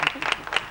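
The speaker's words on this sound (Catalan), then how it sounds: "L'aplaudeixen" An audience applauding during a Catalan talk segment: a brief, close burst of scattered hand claps lasting under a second.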